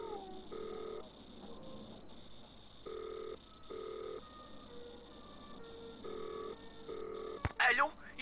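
Telephone keypad tones in the Nancy Drew game Danger by Design, a string of short, evenly spaced dialing beeps, then a brief ring-like burst at the end, over a faint background hum.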